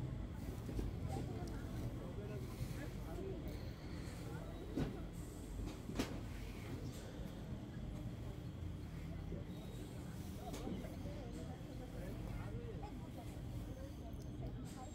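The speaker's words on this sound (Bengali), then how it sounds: "ট্রেন থেমে গেছে" A train pulls into a quiet station on the way to Khirai, giving a steady low rumble that fades toward a halt, with faint clanks and a murmur of voices in the background.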